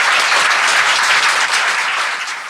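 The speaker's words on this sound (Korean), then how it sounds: "이분한테 좀 박수 좀 부탁드립니다." An audience breaks into dense, steady applause, loud and close, thinning slightly toward the end.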